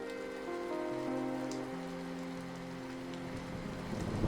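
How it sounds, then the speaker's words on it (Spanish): Steady rain falling in a city alley at night, a close, constant hiss of drops on hard surfaces, joined by a low sustained musical drone that rises and shifts underneath. "La lluvia me calaba hasta los huesos"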